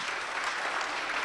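Steady, dense audience applause filling a lecture hall on government secrecy and the war, continuous and fairly loud throughout the short burst with no talking over it.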